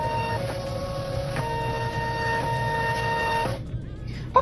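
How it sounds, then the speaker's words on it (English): A home printer runs while printing custom press-on nail cards, a steady mechanical whir with droning tones and small periodic clunks, then it stops abruptly and the room goes nearly quiet. "I don't know why my printer decided to give me problems when I need to record"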